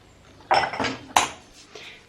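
A plastic spoon is picked out from among dishes. Two distinct clattering knocks are followed by a faint lighter tap, close by and with no talk.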